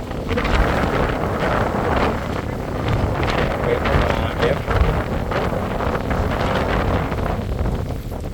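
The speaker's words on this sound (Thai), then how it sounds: "โอ้ลมแรงมาก" Strong wind buffets the microphone outdoors by the water in steady, loud roaring gusts through the whole stretch, with possible boat motion underneath and faint voices mixed in.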